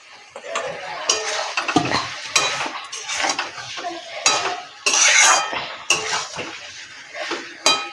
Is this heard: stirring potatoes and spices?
yes